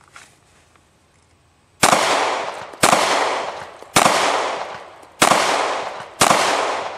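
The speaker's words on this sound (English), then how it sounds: "this is 5 shots in 12 seconds" Five loud, sharp pistol shots at an outdoor pistol range, spaced roughly a second apart, each with a short decaying echo after a quiet start.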